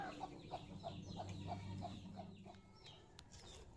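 Several chickens cluck in a short repeated series of pulses, moderately close, over a steady low hum and farmyard background noise, with a few sharp higher clicks near the end.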